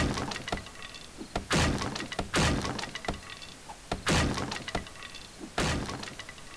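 A wooden structure is smashed apart in the survival game 7 Days To Die, with sharp loud strikes and crunching impacts repeating at irregular intervals, each one clear and close.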